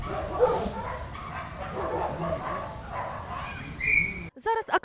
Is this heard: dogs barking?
yes